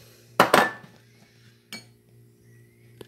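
Eggs cracked and dropped into a blender jar while making pão de queijo cake batter, heard as a couple of sharp clinks and knocks close by, followed by a lighter tap and a brief clatter at the end.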